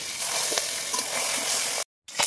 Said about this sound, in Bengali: এখন ডিমগুলো দিয়ে দেব।